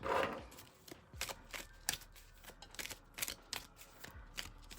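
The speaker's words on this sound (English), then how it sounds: "I have my cards here in this box and we're going to give them a nice little shuffle" A deck of cards is shuffled by hand, a run of quiet, sharp riffling snaps and soft slides close to the mic, irregular bursts over near silence.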